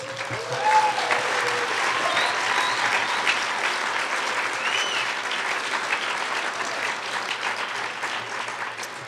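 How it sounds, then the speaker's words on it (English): Audience applause at the Wyoming Governor's Arts Awards 2022, a steady dense clapping from a large crowd filling the hall, with a few whoops rising over it and no clear talk. "How about a round of applause for Ann Mason"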